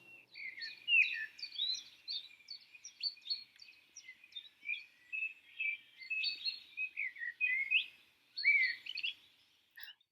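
Small birds chirp and trill in quick, bright phrases, a near continuous run of high tweets with short gaps over a quiet background.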